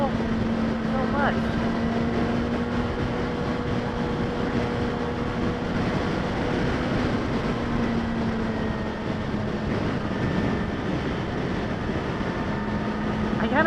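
A 2016 Yamaha R6 motorcycle in third gear, its engine running at steady high revs with a constant whining tone and rushing wind noise, heard from the rider's position with little change in pitch.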